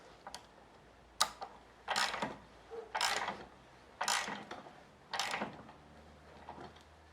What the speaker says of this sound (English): Just tighten it down tight.